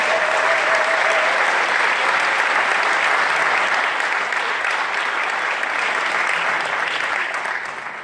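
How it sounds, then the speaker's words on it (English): A crowd at a spring fundraising event in Ottawa gives a long, dense round of applause, steady and full, tapering slightly at the end. "This is worth a big round of applause for Andrew."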